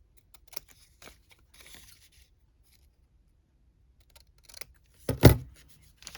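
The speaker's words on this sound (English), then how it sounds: "I'm just going to cut this off." Scissors make a quick snip through a large sheet of paper, trimming off the side flaps of a paper pocket craft; one sharp, close cut stands out after several faint rustles and taps.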